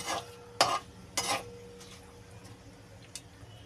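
Short scraping stirs and clinks of a utensil in a pan over a soft frying sizzle of spices in oil, a few distinct strokes then quieter.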